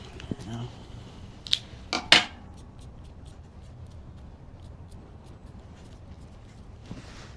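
A José Gaspar cigar being cut open with a cutter, two sharp, close snipping clicks in quick succession, followed by a quiet room with faint light handling noises.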